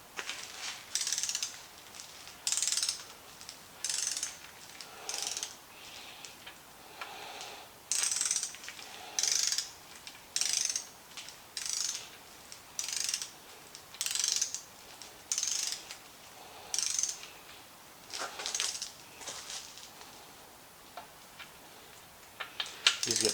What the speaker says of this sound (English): We'll go ahead and torque them down.